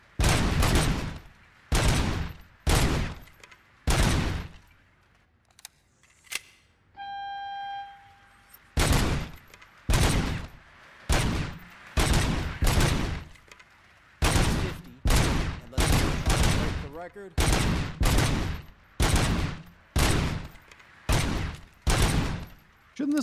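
A burst-fire gun in Robocop: Rogue City fires at practice targets, loud rapid bursts repeating in regular groups with a brief pause and a chiming tone partway through.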